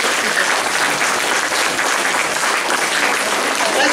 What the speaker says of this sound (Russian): А мы аплодируем.